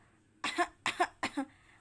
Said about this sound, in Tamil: காஃப் பண்ணுறாங்கன்னு சொல்கிறோம் இல்லையா